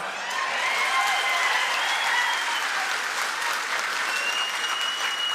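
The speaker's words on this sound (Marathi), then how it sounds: "ऍडव्हान्स टाळी वाजवायची का आता वाजवा" An audience claps during a political speech by guardian minister Jaykumar Gore in Barshi: a full, sustained roar of applause that stays loud and even for several seconds, with a few thin whistles riding above it.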